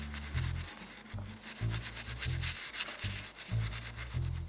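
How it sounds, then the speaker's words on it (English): A resin piece rubbed fairly hard with steel wool, giving a close, rhythmic back-and-forth scrubbing with regular strokes about every half second, continuous and alone without talk. "I'll show you what this is going to look like with a little bit of steel wooling."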